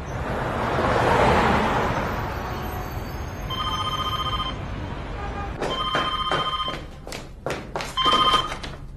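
A telephone rings at home, its electronic trill arriving in short repeated bursts after a stretch of muffled room noise, fairly close and with no speech over it.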